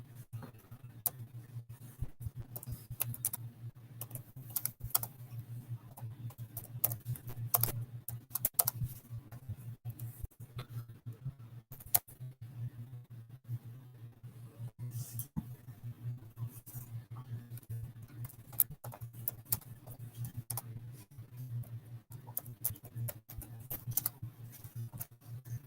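Typing on a computer keyboard, a continuous scatter of quick, irregular key clicks over a steady low hum, close and moderately loud with no talk.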